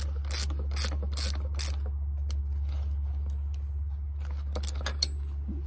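A hand ratchet snugs a nut onto a Land Cruiser 80 Series front sway bar bushing, sounding as bursts of quick, close pawl clicks with short pauses between strokes over a steady low hum.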